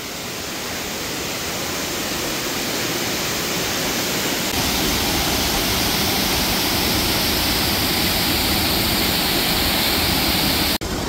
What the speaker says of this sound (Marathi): तर हा धबधबा बघून तुम्हाला पण इथे पोहायला यायचा मोह होईल